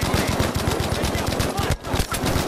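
Rapid automatic gunfire in Battlefield 5 from a support-class machine gun such as the MG34 or Bren, with loud, dense bursts of shots in a fast even rhythm, a brief pause, then more firing.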